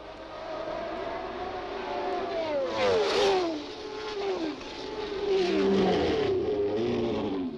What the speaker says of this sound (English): The cars pull in.